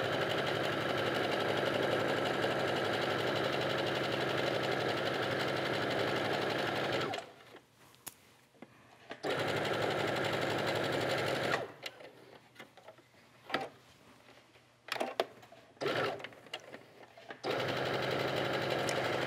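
A sewing machine stitches a seam in a felted wool sweater, running in a steady, loud, even whir for several seconds, then stopping and restarting in short bursts before a final long run.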